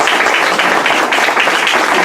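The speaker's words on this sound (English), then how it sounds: "So give yourselves a round of applause for that." Students in a classroom clapping for themselves, loud dense applause from a group close by, continuous and unbroken.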